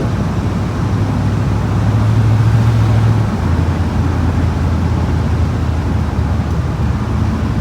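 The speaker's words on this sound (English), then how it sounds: "Intake noises sound like a turbo." A Ford car's engine intake roars steadily while driving, with a turbo-like rush and dense road and wind noise filling the cabin at constant loudness throughout.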